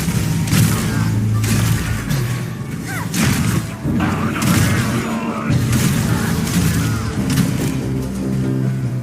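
Crossbow bolts fire in the action game Path of Exile 2, a rapid series of thumps, booms and whooshing impacts layered over a steady background score.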